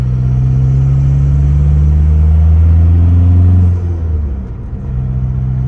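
A car engine accelerates through the gears with a loud, close, deep rumble that holds steady and then briefly drops away as the clutch is pressed for a shift.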